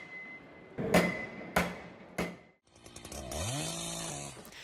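A Husqvarna chainsaw revs in three short sharp bursts, then settles into a sustained, rising whine as it runs steadily.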